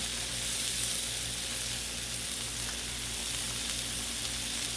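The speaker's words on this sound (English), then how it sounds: "Bacon's done heating up." Bacon strips sizzling on a hot Blackstone flat-top griddle outdoors, a loud, steady crackling hiss with a low hum underneath, no voices.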